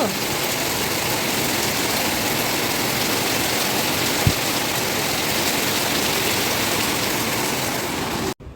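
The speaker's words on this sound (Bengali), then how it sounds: "কী যে জোরে বৃষ্টি পড়ছে, বৃষ্টির আওয়াজ শুনতে পাচ্ছ?" Heavy rain pours down steadily and loudly, a dense unbroken hiss of drops on surfaces that lasts almost the whole stretch, with a single sharp knock partway through.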